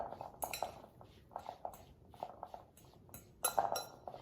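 Scrambled tofu ingredients being mixed together in a bowl, a quiet series of irregular clinks and scrapes of a utensil against the dish, with soft pauses between strokes and no talking.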